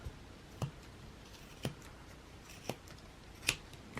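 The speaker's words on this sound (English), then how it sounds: "take a pair of sharp scissors and cut the center" Sharp scissors snipping through wound yarn on a Clover pom pom maker, a series of crisp cuts spaced about a second apart, close and clear over a soft background hiss.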